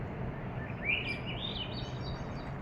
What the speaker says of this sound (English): I want you to hear the birds that I was hearing here.